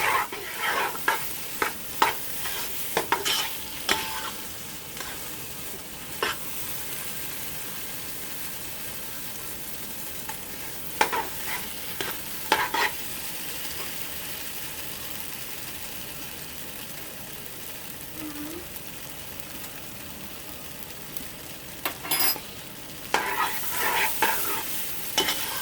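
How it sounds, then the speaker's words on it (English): Onions frying in oil for Nigerian black-eyed peas, a continuous soft sizzle broken by bursts of spoon scraping and stirring against the pot, close and moderately loud. "When it's done, fry your onions in the oil and mix it up."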